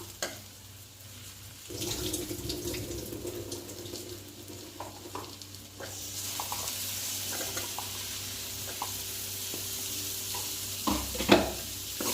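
Boiled lima beans being stirred into a dried fish curry in a pan, a soft sizzle and bubbling with intermittent scraping strokes of a spoon, quiet and close, with no talking.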